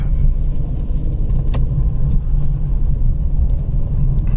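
Car driving at night through the Pilibhit Tiger Reserve, a loud steady low engine and road rumble from inside the cabin, with faint small rattles and no talk.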